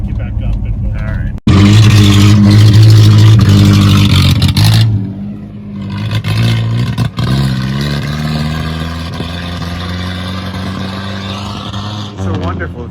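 A Vauxhall Victor car engine revs loudly nearby, surging hard early, then easing and rising again while driving on a hill; people talk over parts of it.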